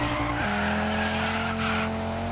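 A car drifts and slides in the DIRT 5 video game, tires squealing in a sustained screech over a droning engine note that shifts pitch midway, loud and close.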